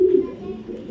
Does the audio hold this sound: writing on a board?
no